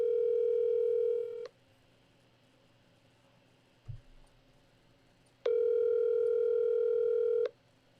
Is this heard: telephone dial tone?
yes